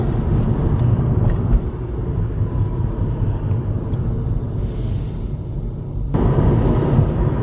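A car driving along, its steady engine and road rumble filling the scene from start to finish, with a brief rise in noise near the end.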